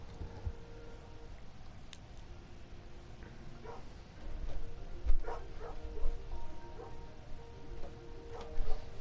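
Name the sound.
dog barking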